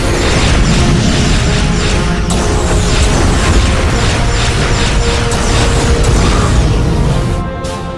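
Dense, loud barrage of booming blasts and mechanical bursts from starship weapons firing during a sci-fi movie space battle, sustained without pause and layered over a rumbling score before tapering at the end.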